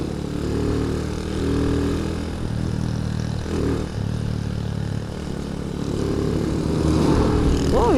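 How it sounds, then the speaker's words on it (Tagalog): A heavy truck rumbles past on a road in Sampaloc, its low engine roar swelling and fading close by, heard alongside a Rusi Gamma 200 motorcycle engine with no talk. "Grabe yung truck ah."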